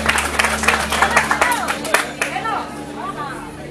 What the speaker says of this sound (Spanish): fuertes los aplausos a la señorita por su esfuerzo y dedicación